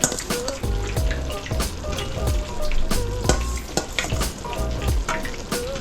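White snapper fillets frying steadily in a pan for a brown stew, a dense continuous sizzle and crackle with occasional utensil clinks and a faint running-tap undertone.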